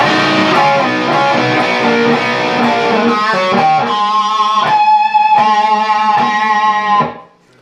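Electric guitar plays a tag riff, a distorted, sustained run of notes that settles into repeated chiming figures before ringing out and stopping at the end, heard alone without voices.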